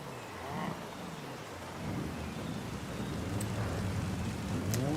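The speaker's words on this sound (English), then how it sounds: "It's raining like it's gonna be soggy." Rain pours steadily in the Forza Horizon 5 racing game, a continuous hiss that swells louder with low rumbles like thunder beneath it, no voices.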